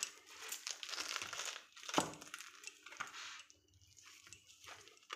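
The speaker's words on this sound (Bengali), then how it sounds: "প্রথমে এই বোটাটাকে ছাড়িয়ে নেব, তারপরে এই খোসাগুলোকে একটু একটু করে ছাড়িয়ে নেব।" Skin being peeled bit by bit from a ripe palm fruit gives quiet, irregular crinkling and tearing scrapes, with one sharper rip partway through and no talking.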